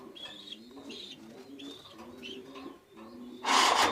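Pigeons in a loft cooing in a series of soft, repeated low calls, close by, ending with a brief loud rustling burst.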